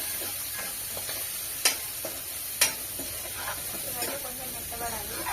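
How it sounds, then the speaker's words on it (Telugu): Ginger garlic paste and curry leaves sizzle in a hot pan with a steady soft hiss, broken by a couple of sharp spatter pops and light stirring clatter. "అల్లం వెల్లుల్లి పేస్ట్ కూడా వేసేసుకుందాం. కొంచెం కరివేపాకు"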